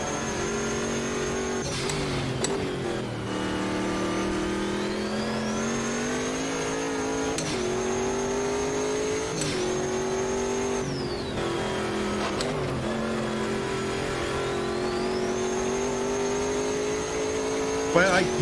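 A racing car engine in the video game Automobilista 2 revs hard and shifts gears repeatedly, pitch climbing and dropping in a continuous loud drone.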